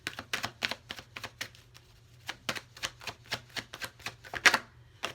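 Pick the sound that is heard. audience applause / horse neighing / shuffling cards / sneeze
shuffling cards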